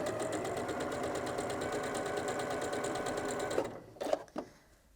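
A sewing machine with a quarter inch foot stitches quilt pieces for a hearts and nine patch quilt, running in a fast steady mechanical chatter before stopping, followed by a few brief clicks and handling sounds.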